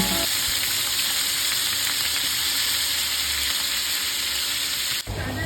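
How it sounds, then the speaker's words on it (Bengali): Chicken pieces frying in hot oil for chicken kosha, a loud, constant close-up sizzle that holds evenly before a brief knock near the end, no talking. "এখানে তেলটা গরম হয়ে গেলে আমি তেলের মধ্যে মাংসগুলোকে দিয়ে একটু ভেজে নিচ্ছি"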